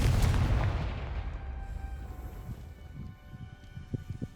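A Confringo fire spell detonates in the Hogwarts Legacy video game, a single heavy boom that hits at once and then rumbles away over several seconds, with faint small crackles near the end.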